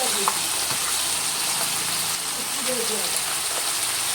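Spices frying in a pan as ginger-garlic paste water is poured in, giving a steady, loud hiss and sizzle that runs unbroken throughout, with faint background sounds.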